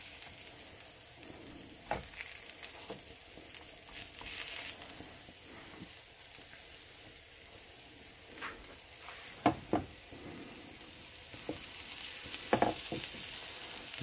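Two Impossible Whopper vegan patties fry in a hot pan after being flipped, giving a steady, low crackling sizzle with a few sharper spits and pops, no voices over it.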